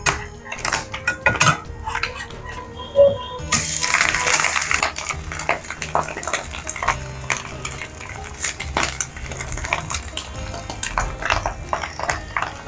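An omelette is flipped in a pan, with a clatter and scrape of a metal utensil against the pan followed by steady frying noise and intermittent clinks, close and fairly loud.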